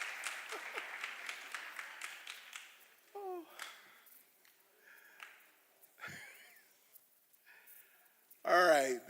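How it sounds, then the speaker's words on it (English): An audience at a high school 10th grade academic awards ceremony claps, a quick patter of applause at the start that fades out, then scattered faint sounds and a louder burst at the end. "a round of applause for our 10th grade highest honors"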